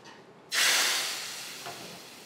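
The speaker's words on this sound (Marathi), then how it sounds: "वरून फोडणी टाकायची त्याच्याशिवाय मजा नाही." Hot oil tempering of mustard seeds, curry leaves and hing for Vidarbha-style palak patal bhaji bursts into a loud sizzle that hisses on and slowly fades, with no talk.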